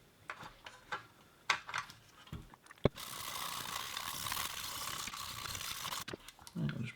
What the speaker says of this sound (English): So what I might do is just put some IPA on it and just use a toothbrush.